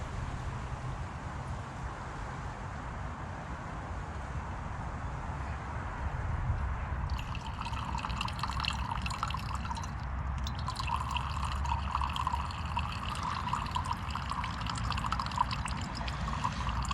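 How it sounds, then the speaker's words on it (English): Water siphons through a filter into a cup as a steady soft trickle under constant hiss, turning into brighter splashing and dribbling partway through. "I'll start the siphon going. Once it's flowing, I'll just rest that in the cup and let it run in."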